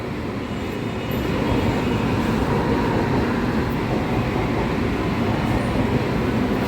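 A loud, steady rumbling roar of a new air-conditioned electric suburban train pulling away in Chennai, India, continuous and close, filling the whole stretch without pause.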